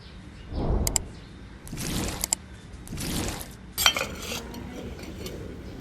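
A lid is lifted and set back on a pot of Southern Thai sour curry with sea bass and pickled bamboo shoots, giving several metallic clanks and clinks with bursts of bubbling steam between them.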